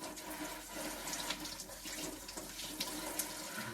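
Tapioca (kappa) is swished around in a full vessel of water to rinse off the soil, giving a steady, close-up wash of splashing and sloshing with no voices.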